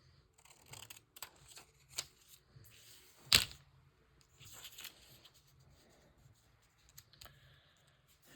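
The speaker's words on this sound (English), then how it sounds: "let's trim this up. This is a little magazine page, image from a magazine." A few short crisp snips of scissors trimming a small magazine page, scattered quietly across a calm tabletop with one sharper cut standing out and brief rustles between.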